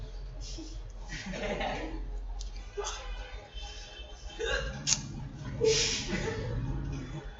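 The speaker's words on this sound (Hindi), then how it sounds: "मैंने फर्स्ट टाइम ऐसी हिचकी सुनी है।" Repeated odd hiccup-like vocal bursts in a room, several sharp gulping sounds spaced irregularly over a steady background, with chuckling and voices nearby.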